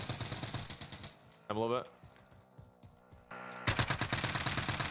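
Gunfire in a Call of Duty Warzone duo match: loud, rapid bursts of automatic fire, pausing briefly, then resuming even more intensely toward the end, with a short spoken phrase in between.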